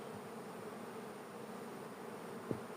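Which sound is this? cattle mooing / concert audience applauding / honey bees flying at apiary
honey bees flying at apiary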